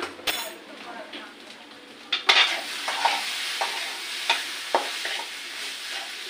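Semolina snack mixture seasoned with salt and chili powder being stirred and fried in a pan, a soft steady sizzle broken by several scraping, clinking stirs close by.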